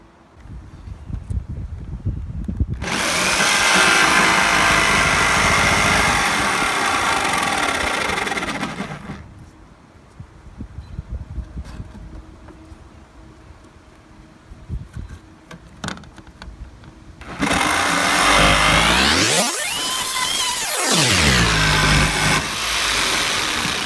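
A power tool cuts a roof-vent hole in the metal roof of a 2017 Ram ProMaster van. There are two loud, harsh bursts of cutting, the second with rising and falling motor pitch, separated by a quieter stretch of handling noise.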